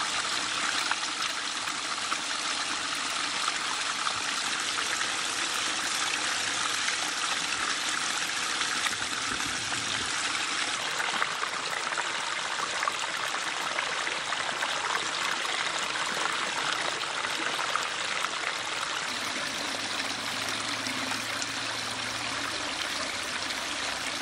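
Water spills steadily down an 8 ft pondless backyard waterfall, a continuous close rushing and trickling wash with no pauses.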